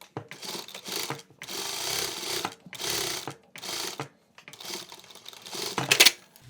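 A sewing machine runs a second line of stitching along a hoodie hem, several close bursts of steady mechanical whirring separated by short pauses, with no voice over it.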